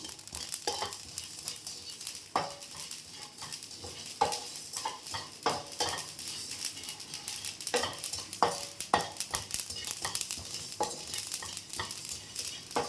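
Mustard seeds crackle and sputter in hot oil while a spoon stirs and scrapes the pan, making a busy sizzle with irregular sharp pops and clinks up close; no one speaks.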